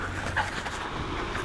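A dog panting close by, a quick breathy stream of huffs that runs steadily through the moment with no talk over it.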